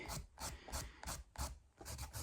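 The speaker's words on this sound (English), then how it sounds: "So I keep filing." Nail filed by hand with a nail file during a manicure, repeated short rasping strokes in an even back-and-forth rhythm, close and fairly quiet with no talking.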